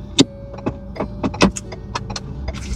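Several vehicles move through busy street traffic, with a run of short, separate passing and mechanical sounds at close range and a low rumble underneath.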